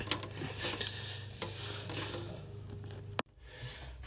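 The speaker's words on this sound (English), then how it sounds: "You just squeeze out the water." Grated potatoes wrung in a cloth rag to press out their water, a steady soft rubbing and wet squeezing with faint dripping, close and quiet, ending in a sharp knock followed by near silence.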